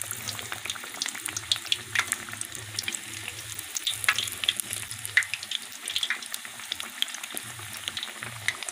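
Gram-flour-battered fish pakoras sizzle steadily in hot ghee, a close, continuous frying crackle with sharp pops and spatters on top.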